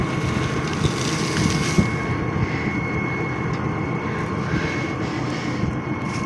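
A tractor engine labours steadily while pulling an Optikon 2.5 subsoiler through a field, a continuous droning roar with a constant whine on top, moderately close and unbroken, with no talking.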